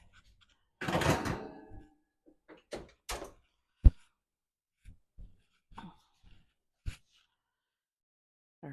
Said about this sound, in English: All right, shut the door.